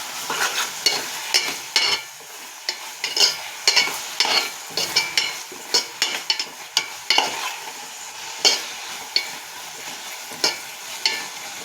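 A spoon stirs a prawn pakoda curry mixture in a pan. Loud, repeated scraping and clacking strokes fall in a steady rhythm over a continuous hiss of frying, close up and with no talking.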